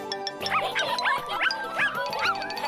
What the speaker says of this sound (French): C'est un chiot.